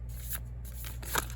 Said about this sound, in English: So I've been shuffling the Angels and Ancestors deck